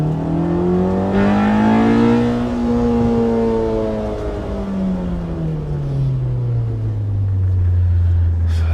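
A B18C-swapped 2000 Honda Civic Si engine and exhaust revving up and easing down, a loud, close rasp whose pitch climbs, holds, then falls steadily through a long deceleration.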